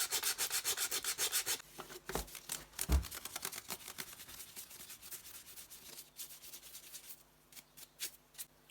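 Painted motorcycle fairing is sanded by hand with 180-grit sandpaper, starting with fast rhythmic back-and-forth rasping strokes, then shifting to slower scattered rubs and scrapes, close and fairly quiet.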